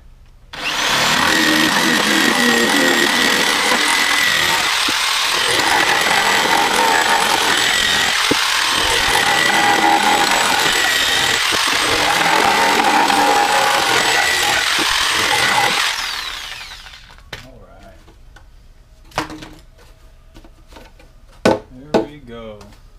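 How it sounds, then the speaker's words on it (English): A jigsaw cutting wood for a kayak crate buzzes loud and close for about fifteen seconds, then stops, leaving faint knocks and handling sounds. "got the old jigsaw out here. So we're just going to cut it all even all the way across"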